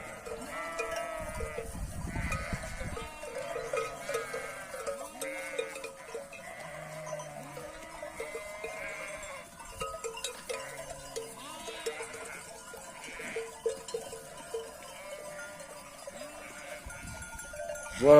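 Sheep bleat repeatedly, several animals calling over one another at moderate distance, with faint clanking bells in the background.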